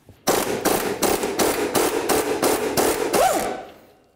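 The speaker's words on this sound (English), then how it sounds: "We want to go ahead and remove all four of our mounting nuts." An impact wrench rattles off the backing plate mounting nuts on a 1999-2007 Ford Super Duty F-250, loud rapid hammering bursts for about three seconds, then winding down.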